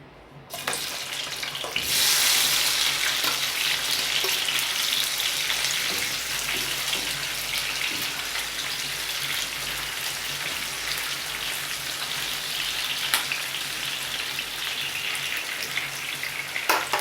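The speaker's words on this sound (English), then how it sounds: "So I'm gonna saute everything now." Slices of hot pepper and ripe sweet pepper hit a hot pan and start sizzling loudly, a dense rain-like crackle that holds steady for many seconds, with occasional stirring clinks and no talking.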